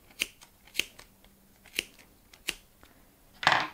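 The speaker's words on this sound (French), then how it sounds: "On passe les ciseaux entre les deux épaisseurs et on coupe." Four crisp scissor snips through two layers of yarn, spaced about half a second apart, each a short sharp click, followed by a softer, longer rustling snip near the end; close and quiet.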